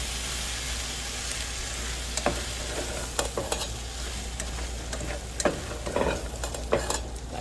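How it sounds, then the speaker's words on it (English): Potatoes and corn are stirred in a pot, with a utensil scraping and knocking at an uneven rhythm over a steady background hiss. "I'm going to give these potatoes and corn a little bit of a stir."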